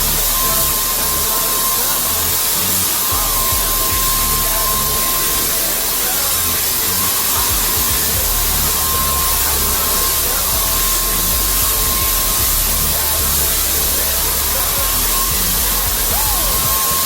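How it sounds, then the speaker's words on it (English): Paint spray gun spraying paint onto a board and batten wall, a loud continuous airy hiss with a steady faint tonal whine underneath, close and unbroken throughout with no talking. "Okay, we're back with our paint gun."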